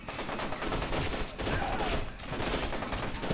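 Sustained rapid gunfire in F.E.A.R. 2, dense automatic bursts and overlapping shots filling the whole stretch, loud and close, with only a brief dip between volleys.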